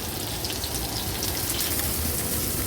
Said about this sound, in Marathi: हे बोंबील आपण एक दोन ते तीन मिनटासाठी एक बाजू त्याची तळून घेऊया